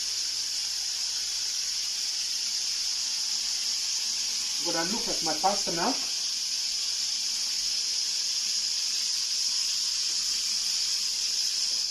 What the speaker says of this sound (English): No, you want your chicken to sizzle.